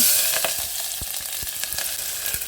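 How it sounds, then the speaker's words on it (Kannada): Onions fry in hot oil inside a pressure cooker for biryani, a steady close sizzle with occasional stirring clicks running throughout. "ಈರುಳ್ಳಿನ ಕೆಂಪು ಫ್ರೈ ಮಾಡ್ಕೊಬೇಕು"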